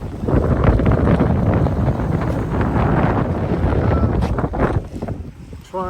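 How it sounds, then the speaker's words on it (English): Strong wind buffets the microphone at a park in Fort Lauderdale, Florida, during a fishing outing, a loud continuous rumble that eases briefly near the end. "Wind's picking up, so I might go find a different spot."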